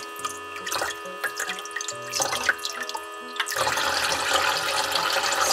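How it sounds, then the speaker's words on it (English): A toy kitchen faucet runs water over a chili pepper, starting with a trickle and drips over a melodic electronic tone, then switching to a steadier, louder rushing stream, close by with no talk. "Wash it all off, then give it a good rinse."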